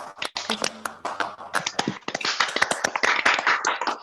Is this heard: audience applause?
yes